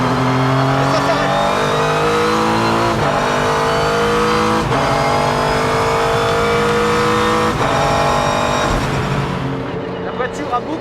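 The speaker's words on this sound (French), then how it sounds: "C'est en fait le moteur de la Nissan GT-R et c'est parti." Race car powered by a Nissan GT-R engine accelerating hard through its gears, the loud engine roar rising and dropping with each shift, steady and close for the whole stretch.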